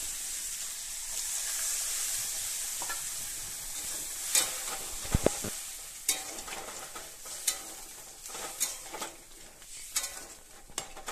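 Paneer frying in a pan with a soft hissing sizzle, broken by a series of sharp scraping and tapping strokes as a spatula stirs it, growing busier partway through.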